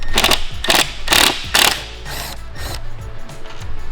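Four sharp ratcheting clicks in a row, then softer scraping, as a screw is backed out of the sliding window latch on a Land Rover Defender 90/110; close and loud, with no talking.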